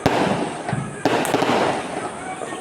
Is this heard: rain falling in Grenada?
no